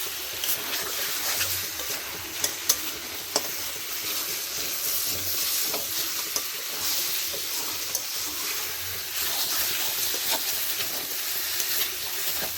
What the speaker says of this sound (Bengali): ভালো করে নাড়তে হবে, একটু লেগে যাচ্ছে আমার মশলাটা, সেগুলো একটু ভালো করে নাড়তে হবে।